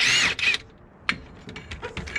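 A 17mm spanner works a coilover bolt nut on an R31 Skyline, giving a few close metallic clinks and ratchet-like clicks in short, uneven bursts separated by quiet gaps.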